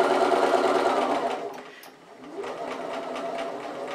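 A sewing machine stitches white thread on red fabric with a steady, close mechanical whir. It slows and briefly pauses midway, then starts again, and a voice talks faintly underneath.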